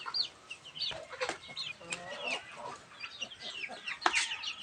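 Chickens cluck and peck while feeding on coconut pulp mixed with a little commercial feed, with repeated nearby clucks and short calls over a quiet yard background.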